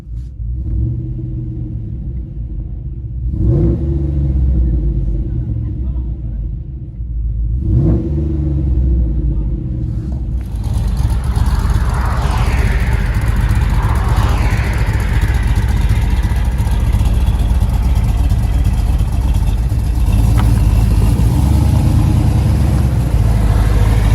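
A 2007 GMC Yukon Denali with a cammed 6.2L LS V8 and an 11-inch Magnaflow exhaust, heard from inside the cab. A choppy lopey idle with a couple of blips gives way to a loud, sustained rev and a deep rumbling drone.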